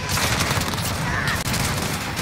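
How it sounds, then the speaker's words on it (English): Rapid gunfire strikes a riot shield in Modern Warfare, a dense, loud, continuous clatter of shots with a short break partway through. "when I shoot at him, I hit the riot shield"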